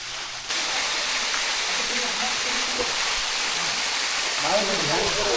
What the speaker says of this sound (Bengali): এই পাহাড়ের শান্ত প্রকৃতির মাঝখানে এই ওয়াটারফলস। এই দেখুন জলের ধারাটাও কিন্তু রয়েছে, তবে অনেকটা অল্প রয়েছে